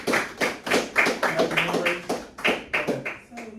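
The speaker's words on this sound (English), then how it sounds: "Clap it up for yourselves," High school boys at a STEM academy clap for themselves in a loud, uneven burst of close hand claps mixed with voices and cheering.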